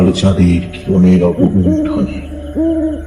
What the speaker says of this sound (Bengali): নির্জন বনের অভ্যন্তর থেকে ভেসে আসা অথম পেঁচার ডাকে